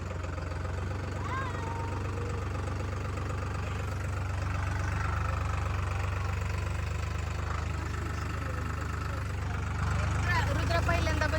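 A tractor engine idles on a farm near Shirur with a steady low rumble and some knocking throughout, and voices talk over it now and then.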